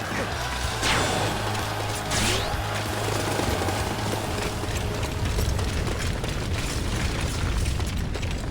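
Fire attack in the video game Dynasty Warriors 9, with rumbling booms and crackling bursts of burning and explosions under shouting battle voices, a dense continuous roar of combat.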